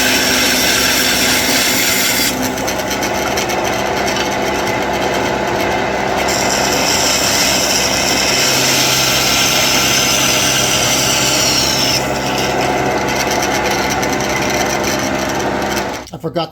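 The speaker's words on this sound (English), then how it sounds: "I'm going to use the bandsaw to cut this" A bandsaw cuts a piece of wood for an early-1800s loom being refurbished, a loud continuous whining buzz with a rasping blade-through-wood texture that holds steady for about sixteen seconds before winding down at the end.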